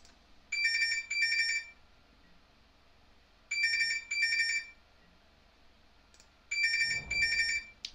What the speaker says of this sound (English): Sorry if that phone going off is extremely loud